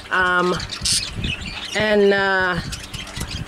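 Loud, close bird calls in two drawn-out squawking bursts with chirps between, harsh and harmonic, no talking.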